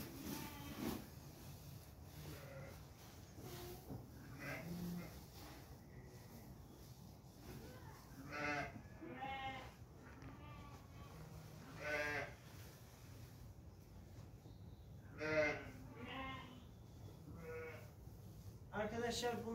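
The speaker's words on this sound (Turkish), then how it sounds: "koyunlarımız geldi" Sheep and small lambs bleating on a farm while hay and barley feed is put out, with several calls scattered through the clip, some close and some farther off, over a steady farmyard background and a person talking at times.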